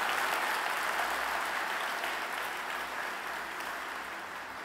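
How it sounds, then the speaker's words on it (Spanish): Sustained applause from a church congregation during a Spanish-language sermon, a dense wash of clapping that holds steady for several seconds and begins to taper slightly toward the end, with no voices over it. "denle un aplauso al Señor si usted lo cree"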